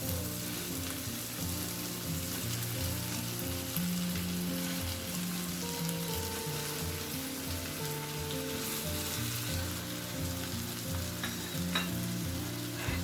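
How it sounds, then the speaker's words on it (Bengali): Hilsa fish pieces frying on low heat in mustard masala for shorshe ilish, a continuous close, even sizzle with soft crackle, steady and unbroken, no voices. "তো আমি ইলিশ মাছটা দিয়ে দিয়েছি।"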